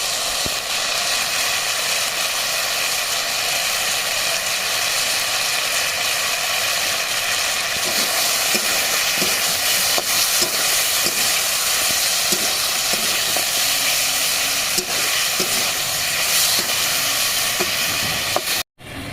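Village-style lemon chicken sautéing in a pan, a loud, continuous sizzle with intermittent scraping and stirring strokes, no voices, ending with a brief cut near the close.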